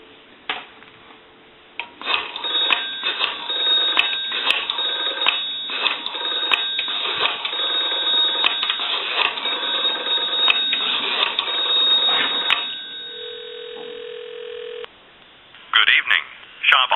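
A Western Electric 233G three-slot payphone gives a steady tone with clicks and tone bursts as a call connects, then a steady single tone, with a recorded voice briefly heard near the end.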